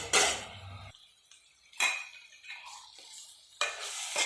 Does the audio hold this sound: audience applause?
no